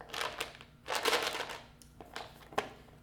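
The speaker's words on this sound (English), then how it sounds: "It's a box of crayons that I have at school." A box of crayons shaken a few times, producing soft papery rattling bursts separated by brief pauses, close by and fairly quiet.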